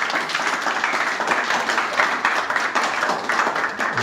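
A church congregation applauds to acclaim Jesus at a memorial service, with steady, full, dense clapping from many hands that stays loud throughout.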